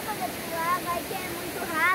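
River water flows and splashes on the Rio Formoso in Bonito, Mato Grosso do Sul, a steady, bright rushing close by, while a person talks over it.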